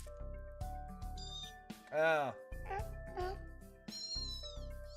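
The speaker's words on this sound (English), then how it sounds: "I hear cats." Cats meow in a video game, several distinct drawn-out meows with one loud rising-falling cry in the middle, mixed with music and a person speaking briefly.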